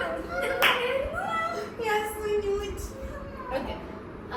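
A few sharp hand claps sound during a family guessing game, mixed with children and adults chatting at modest volume.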